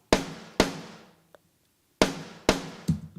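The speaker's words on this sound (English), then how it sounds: "So that gives me a triggered snare that sounds" Five sharp, booming snare hits ring out with long reverberant tails, spaced unevenly and loud, with nothing else playing.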